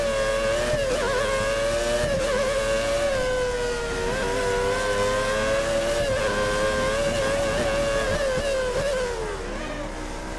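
Formula 1 car lapping Monaco in the F1 2013 video game with 1990s-era cars, a continuous high-pitched engine whine that rises and falls through gear changes, loud and alone throughout.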